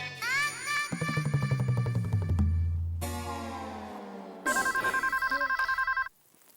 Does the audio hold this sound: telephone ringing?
yes